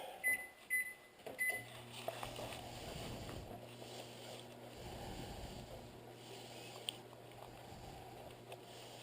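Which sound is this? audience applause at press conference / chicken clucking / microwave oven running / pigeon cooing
microwave oven running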